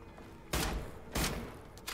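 Two loud, broad bursts of gunfire from Wolfenstein: The New Order, each lasting about half a second and well separated, standing out against a quiet game background.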